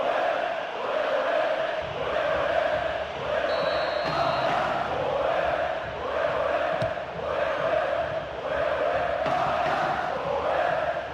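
A stadium crowd in the PES 2013 football video game, playing as AFC Ajax in the Eredivisie, swells and surges in steady waves of roaring and cheering, loud and continuous with a few faint whistles.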